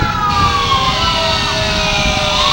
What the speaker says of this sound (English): Brewster Ambulance.